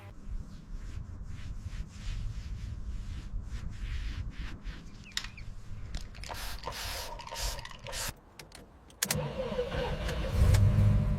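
Restored classic car engine cranking and starting after a full rebuild, then settling into a steady idle with a few blips of revving, close and fairly loud.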